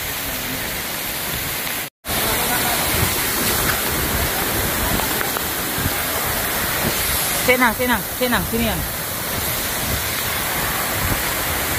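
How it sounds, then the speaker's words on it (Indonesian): Steady broadband rush of the Madakaripura waterfall and the river flowing beneath it, loud and continuous throughout, with a brief dropout early on and someone talking over the water near the end. "tapi ini sebenarnya air terjun teman-teman."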